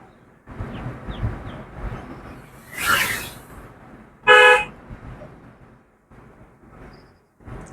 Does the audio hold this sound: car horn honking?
yes